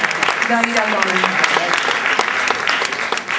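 Steady, dense clapping from a church congregation fills the space, with a few voices rising briefly above the applause.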